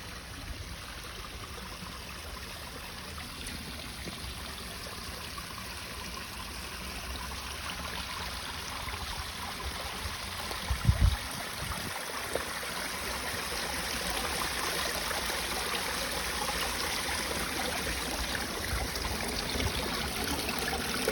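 Water runs steadily into a patched backyard pond and waterfall, a continuous close rushing trickle that holds throughout, with a brief knock partway through.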